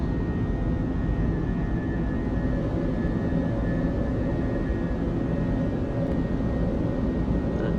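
Airliner jet engines in a flight simulator roar as a steady, dense wash of noise during the takeoff roll and climb, unchanging and loud throughout.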